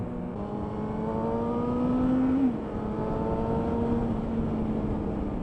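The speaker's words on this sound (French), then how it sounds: "ça fait un beau petit bruit quand on met les gaz" A Suzuki GSR 750 motorcycle's engine rises in pitch under throttle, eases back briefly, then keeps droning at a moderate level with a smooth, tonal howl and no talking.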